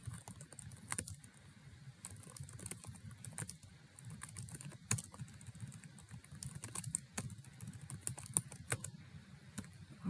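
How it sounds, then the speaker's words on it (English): Steady typing on a computer keyboard while writing instructions for an eLearning page, with quick, close, irregular key clicks continuing for the full stretch over a quiet background. "I would type out all of my instructions"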